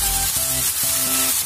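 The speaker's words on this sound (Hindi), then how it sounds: "पेस्ट 1 मिनट इसी तरह से फ्राई करेंगे।" Ginger-garlic paste fries in a pan with a loud, close, continuous sizzle over a low flame, with background music playing underneath.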